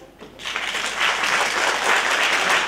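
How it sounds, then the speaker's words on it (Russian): Audience applause at a jazz concert welcoming the band's female soloist to the stage, a dense, steady clatter of many hands that swells in after a brief quiet start and holds loud to the end. "под ваши аплодисменты я приглашаю на сцену солистку ансамбля Анну Корлякову."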